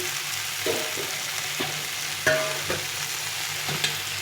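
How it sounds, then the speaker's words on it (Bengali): Spices and ridge gourd stir-fry in a pan for a Bengali curry, a soft continuous sizzle with intermittent spatula scrapes and taps against the pan, close and moderately quiet. "তো ভালো করে মশলাটা কষিয়ে নিয়েছি সবজির সঙ্গে"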